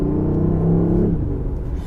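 Synthetic engine tone from a BMW i8 piped through the car's audio, a low steady droning hum with a rising whir that fades partway through, close and fairly loud.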